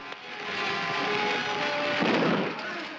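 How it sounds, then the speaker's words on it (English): An explosion erupts inside a spaceship in a 1957 science-fiction film, a sustained loud roar of blast and rumble with a sharper burst partway through. "Explosion and smoke fill the interior"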